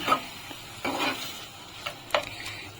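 Milk being stirred into grated coconut in a pan for coconut-and-milk sandesh, with a few scraping strokes of a spoon against the pan between quieter stretches over a faint sizzle.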